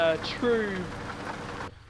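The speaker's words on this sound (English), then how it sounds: "It is raining, of course." Rain patters steadily outside a truck's open window in the Euro Truck Simulator 2 driving game, a dense close hiss that cuts off abruptly near the end.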